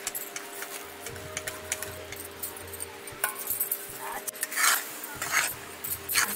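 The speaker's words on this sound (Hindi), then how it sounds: "अब यहीं पे हम जो काजू पीस के रखे हैं ना उसको हम यहीं पे मिलाएंगे" A utensil stirring ground cashews into sticky sugar syrup in a pan for kaju katli, giving irregular close scraping and clinking against the metal over a low, steady hum from a nearby burner or appliance.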